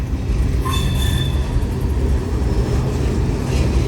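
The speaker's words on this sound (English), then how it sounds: "The front of the train just now went past the defect detector." A freight train rolls past on a railroad track, a loud continuous rumble and clatter of wheels with faint metallic squeals early on, close and steady throughout.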